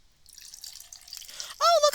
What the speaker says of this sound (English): let's see what happens when we pour it in the glass